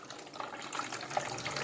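Water pouring steadily in a homemade waterfall experiment, a continuous close splashing trickle with small bubbly accents and no talking.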